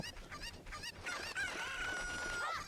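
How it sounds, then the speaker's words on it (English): Chickens from the video game The Legend of Zelda: Ocarina of Time, faint clucking followed by a high crowing call, low in the mix and brief. "We're gonna push those chickens into Anju, or the chicken lady"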